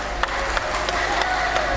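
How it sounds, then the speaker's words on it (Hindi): An audience clapping together in a steady rhythm, several evenly spaced claps over a constant background hum, moderately loud. "एक बार ताली बजाइए।"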